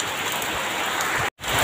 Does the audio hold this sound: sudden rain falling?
yes